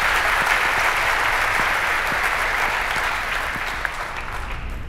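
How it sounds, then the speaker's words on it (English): An audience at the FutureJS 2014 JavaScript conference gives a warm round of applause as speaker Jaume Sánchez takes the stage. The clapping is dense and continuous from a sizable crowd, easing off slightly at the end. "if you can give a warm round of applause to Jaume Sanchez"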